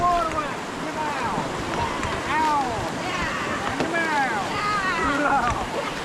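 A crew paddles a river raft through a rapid at Kolad, rushing water and splashing strokes heard close by under wind buffeting, with voices calling out and shouting.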